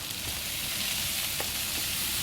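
Vegetables frying in a hot pan for jjajangmyeon, giving a steady, close hiss of sizzling with a few faint stirring clicks and no voices.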